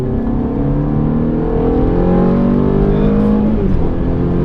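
A Ferrari engine roars loudly at full throttle on the Mondello Park circuit, its pitch climbing steadily as it accelerates, with a brief dip near the end like a gear change.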